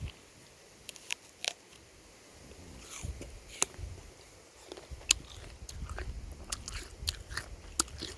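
Someone bites into and chews an apple outdoors on a farm, producing a few sharp crunchy bites followed by softer, irregular chewing sounds up close against faint background noise.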